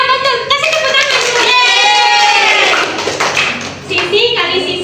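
A classroom of students claps for a classmate while children's voices ring out loudly over the top, the hand claps partly buried beneath the chanting and talk.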